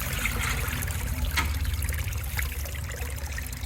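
Water trickling and sloshing as it is scooped from a creek or drainage ditch for filling a V8-swapped S10 or Blazer truck's cooling system, a steady close wet rush with small splashes, no talking.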